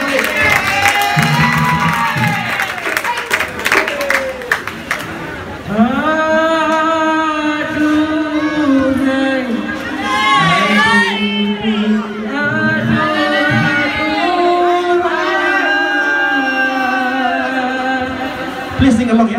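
A crowd cheers, whoops and claps at a dikir barat performance at ITE College Central, the dense cheering loud and continuous, with singing voices and shouts over it throughout.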